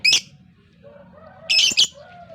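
Sharp high bird chirps open and close the moment, with a softer warbling call and low background hum between them.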